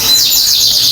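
A Yorkshire canary at a bird shop sings a loud, close run of high, sweeping chirps and trills that fill the short moment without any talking.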